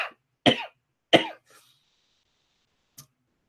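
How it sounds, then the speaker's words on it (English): Two or three sharp coughs from a single person close by, in quick succession, followed by a short faint cough after a pause, with no other sound around them. "Now I'm coughing because I'm laughing"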